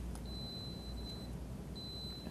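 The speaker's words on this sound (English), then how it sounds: "so I'm going to hit sound alarm on the wallet" Alarm from a Freedom Wallet tracker under a pillow: a steady high electronic tone that sounds twice with a short gap, faint over a low background hum.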